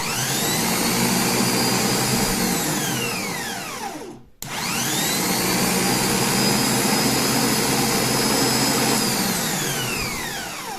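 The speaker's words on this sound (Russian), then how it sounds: "Как видим, электродвигатель работает, все в порядке, бензикс крутится" A car starter's electric motor spins on a bench test with its pinion turning, a loud, high, steady whine that stops abruptly for a moment midway and then spins back up to full speed.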